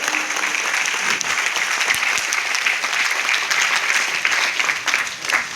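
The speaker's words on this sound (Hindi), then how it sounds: "एक बार जोरदार तालियां।" Loud, steady applause from a seminar audience at an RCM event in Kankinara, dense clapping sustained throughout with no speech over it.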